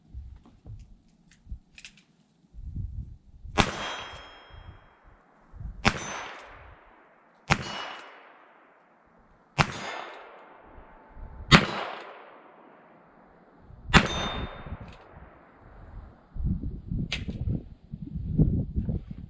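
A Ruger Wrangler .22lr revolver fired at a steel plate target from about 15 yards, seven sharp shots spaced a couple of seconds apart, each followed by a bright ringing clang that fades out.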